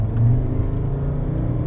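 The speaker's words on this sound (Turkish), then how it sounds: "Motor sesin geliyor biraz ama güzel geliyor." Mercedes E270 CDI W211 diesel engine heard from inside while driving, a steady low droning rumble with mild road noise.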